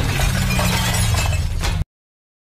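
A mirror shatters in a loud burst of breaking glass, then cuts abruptly to silence.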